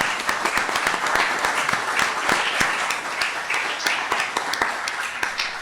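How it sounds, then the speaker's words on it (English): Audience applause for a school board at a Franklin Special District community event in Tennessee, a steady dense wash of many hands clapping with sharp individual claps standing out, sustained evenly throughout without speech. "Let's give them a round of applause."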